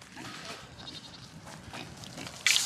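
Goats bleat in short wavering calls over a noisy outdoor background, with a sharp loud burst at the end.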